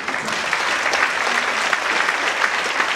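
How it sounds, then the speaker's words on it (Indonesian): A church congregation breaks into loud, sustained applause during a sermon, many hands clapping densely together in a large room for a few seconds without speech. "Berikan tepuk tangan."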